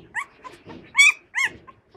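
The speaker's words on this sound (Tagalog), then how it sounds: "Isog ni siya tama nga dog." A large, fierce dog about 26 to 27 inches at the withers gives several short, close barks and yips with whimpering sounds between them, irregularly spaced and with no talking.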